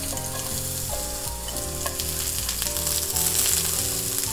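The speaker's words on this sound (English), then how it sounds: "I'm gonna add a tablespoon of olive oil and add our onions." Onions sizzle steadily in a tablespoon of olive oil in a preheated nonstick frying pan, a close, continuous crackling fry with no talking.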